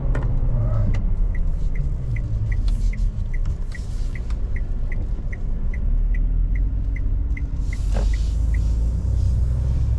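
A ZNA Rich 7 pickup truck, a Chinese model based on the Frontier, pulls away and accelerates with a deep, steady engine rumble, while a regular, rapid ticking runs through most of the run and a brief squeak comes near the end.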